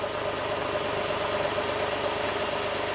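A Honda Accord engine with a VCM misfire idles close by in a steady, continuous hum, its running slightly uneven for the full three seconds with no voices.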